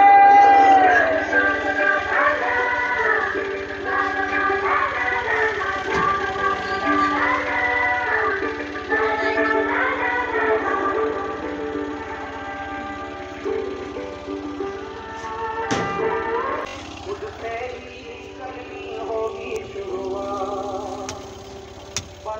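A garbage collection truck playing a song as it approaches along a residential street in India, its tinny melodic tune carrying steadily over engine noise for the whole stretch, fairly near and loud, with no talking over it.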